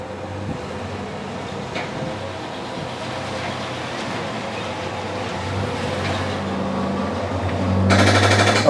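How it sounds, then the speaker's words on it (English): The slide-out mechanism on a 2022 Columbus 329DV fifth-wheel trailer drives with a steady mechanical whir and rattle. A sharper, louder clattering ratchet comes in near the end. "When you hear the ratcheting sound, you take your finger off the button."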